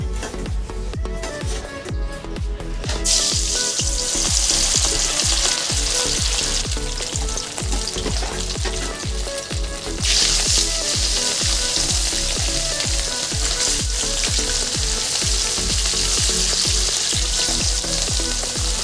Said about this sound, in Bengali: তেলটা গরম হয়ে গেছে, এবার একে একে মাছগুলো ভেজে নেব।